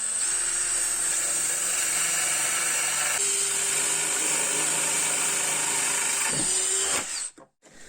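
A power drill bores holes through a metal notched trowel, its steady high whine running loud and continuous for about seven seconds before stopping abruptly.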